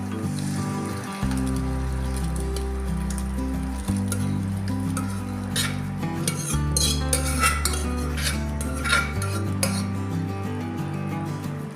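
Boiled mung beans go into a pot of gravy and are stirred, with repeated metal clinks and scrapes of a spoon against the pot over a steady low hum, close up.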